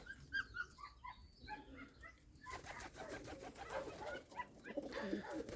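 Pigeons in a village dovecote in Ukraine coo and flutter close by in a busy, continuous murmur, with a dog whimpering and barking intermittently among them.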